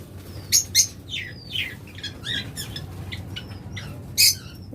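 A pair of lovebirds chirps in short, sharp bursts, several quick tweets and squawks close by over a low background hum, with no talking.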